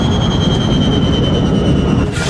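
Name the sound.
airliner jet engines flaming out and shutting down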